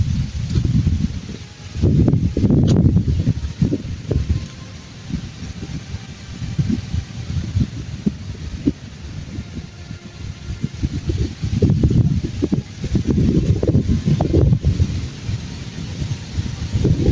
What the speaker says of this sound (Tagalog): Medyo malakas yung hatak ng hangin ba.